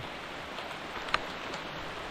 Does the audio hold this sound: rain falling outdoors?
yes